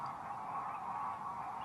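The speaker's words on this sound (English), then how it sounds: "And one family that uses this in particular are the geese. And they come here in their thousands." Geese gathered in their thousands at a sea loch in winter, heard as a continuous, distant chorus of overlapping honks that forms a steady wash with no single call standing out and no voices.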